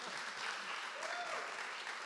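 Audience at a startup lectures event clapping for gaming panelists, a steady even patter of applause lasting a couple of seconds at moderate volume, with a faint voice or tone briefly audible beneath.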